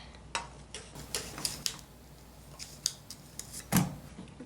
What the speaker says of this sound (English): this is why the knife is here, so that I can cut this off